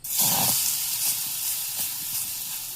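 Potato and besan fritters frying on a hot tawa, a steady bright sizzle and hiss filling the whole moment, close and continuous with no talk.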